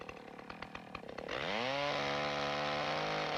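A chainsaw cutting a tree roars loudly up close, its engine revving and climbing in pitch before settling into a steady, continuous high whine.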